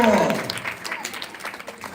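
Crowd applause breaks out at a Ganesh laddu prasadam auction, loud at first and then thinning into scattered clapping, with a voice briefly over the start.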